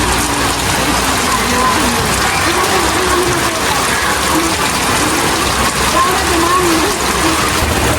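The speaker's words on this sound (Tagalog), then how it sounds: "Grabe ang ulan po" Heavy rain pours down in a dense, loud, unbroken hiss that holds steady throughout.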